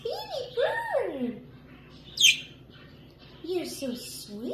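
Pet bird chirping and squawking indoors, with a few sharp rising calls and one shrill squawk, up close, while a person talks to it in a soft baby voice.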